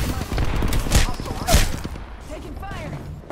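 Rapid bursts of video game gunfire crackle across a firefight between two teams, with sharp loud volleys near the start and middle, mixed with a player speaking.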